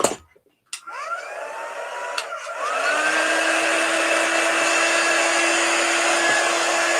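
A hair dryer drying chalk paste on a craft project starts up after a few clicks, its whine rising, then runs as a steady, close airy roar with a sustained hum, no talk.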